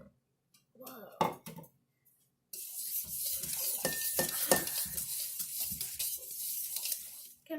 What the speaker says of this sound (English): Combine your dry ingredients and wet ingredients.